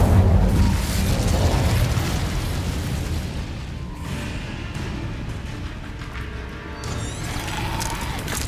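Fiery spell blasts cast in the Hogwarts Legacy video game, a loud booming burst at the start that settles into a sustained roaring, crackling rumble, with further sharp bursts near the end; no speech.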